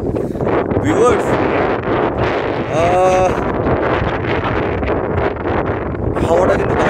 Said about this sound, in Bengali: আস্তে আস্তে হাওয়াটা বাড়ছে এখন